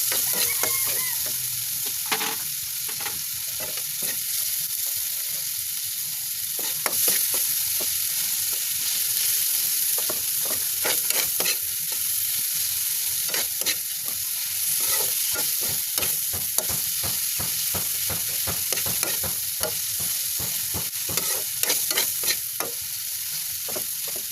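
Onions frying in a pan with a steady, close sizzle, broken by repeated sharp scrapes and clicks as they are stirred, with no voices.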